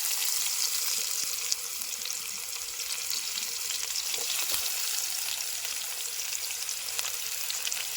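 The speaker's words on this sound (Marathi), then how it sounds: "कांदो आणि टोमॅटो तिकडे. लगेच फोडणी देऊया." Onions and tomatoes hit hot oil for a tempering over an outdoor campfire in a cold forest camp, giving a steady, dense sizzle with faint crackles throughout, fairly close and without any talking.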